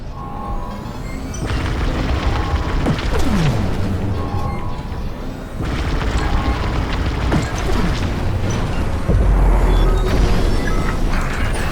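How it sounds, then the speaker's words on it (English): Reactor core explosion in the Star Wars Squadrons video game: loud rumbling booms and crashing blasts over continuous engine roar, with a heavier surge near the end. "You won't have much time to get out once the core explodes"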